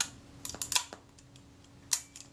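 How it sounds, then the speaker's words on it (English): A film camera's advance lever is pushed through its stroke to cock the shutter, making a quick series of small mechanical clicks and ratchets, close and quiet, with one sharper click near the end and no talking. "Press the film release button, move the film advance lever."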